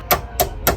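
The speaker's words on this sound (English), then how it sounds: "Get the hammer on it." Three sharp metallic impacts about a third of a second apart as a hammer or improvised striking tool hits a car subframe part during an AU Falcon subframe swap into an EF XR6, close and loud.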